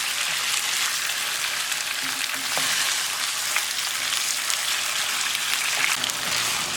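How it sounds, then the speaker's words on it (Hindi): Chicken fries in a pan for chicken masala biryani, giving a steady, close, bright sizzle with scattered small pops and crackles and no talking. "चिकन फ्राई हो गया है"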